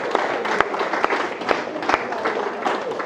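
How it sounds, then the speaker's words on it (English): Wedding guests break into a round of applause for the groom's mother on her birthday, a dense, steady clapping from a crowd in a reception hall, with a few sharper individual claps standing out. "if I can get a round of applause for my amazing mum"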